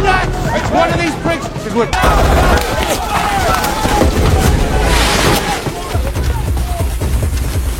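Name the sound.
gunfire from a secret squad in an action film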